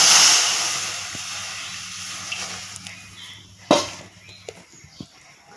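Water hisses and steams as it hits a hot kadai for boiling raw mangoes, a loud sizzling spray fading over several seconds, with a few clanks of utensils.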